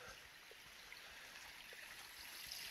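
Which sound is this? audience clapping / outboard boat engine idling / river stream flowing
river stream flowing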